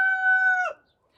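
A chicken in a chicken coop gives a single short, sharp, high-pitched call, loud and close, that cuts off abruptly and leaves near silence.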